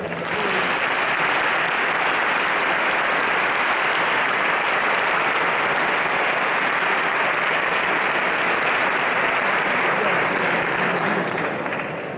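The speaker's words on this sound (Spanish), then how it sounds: "Un aplauso para ella" A concert audience at a flamenco competition final in Leganés gives a contestant a long, loud, unbroken round of applause, thick even clapping filling the whole stretch.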